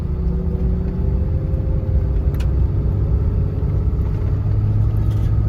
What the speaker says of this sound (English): Go for a little drive down the nice freshly graded road.